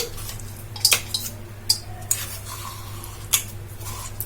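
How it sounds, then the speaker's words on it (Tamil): Ground lentil and rice batter for paruppu kozhukattai is scooped into a mixing bowl. A few sharp clinks and scrapes of utensils against dishware sound up close, spread across a quiet background, with no talking. "இதுல நம்ம அரைச்சி வச்சிருந்த இந்த பருப்பு அரிசி எல்லாத்தையும் இந்த பவுல்ல போட்டுக்கலாம்"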